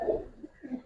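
Local deshi pigeons coo softly nearby in a couple of short, low, rounded calls that follow a brief louder opening burst.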